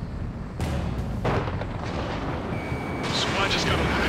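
In the Ace Combat 7 jet combat game, a missile blast bursts out as a loud, broad explosion, followed by a second impact and a rumbling aftermath, with a thin warning tone and radio chatter over the top.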